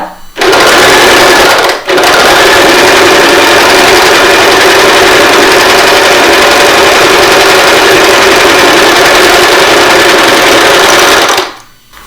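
An Usha Janome Stitch Magic sewing machine stitches a zigzag pattern, its loud, fast, steady mechanical whir running nearly nonstop close up, with one brief pause early on before stopping at the end.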